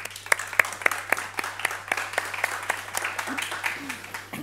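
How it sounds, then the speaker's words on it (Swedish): Audience at a Swedish climate-challenge event applauding a list of company representatives, a round of scattered then denser clapping in a hall, with a low steady hum and a few voices beneath. "Vi ger alla en applåd"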